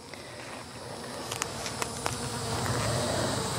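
Honey bees buzzing around an open beehive during a queen replacement, a steady close hum with a few brief louder passes of individual bees near the microphone, no talking.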